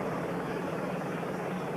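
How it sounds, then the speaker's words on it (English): A helicopter filming the 1996 Tour de France Gap–Valence stage gives off a steady, broad whooshing rotor and engine roar, even and continuous throughout. "as our helicopter pulls back"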